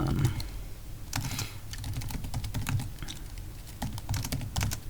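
Python code for a ROS publisher/subscriber lab is typed on a computer keyboard, a close, quick run of irregular key clicks in short bursts with brief pauses, and no talking.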